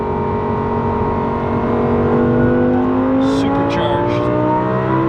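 A ten-year-old supercharged car accelerates hard with steady engine drone and rising tones, a quick downshift audible partway through, recorded from inside with no talking.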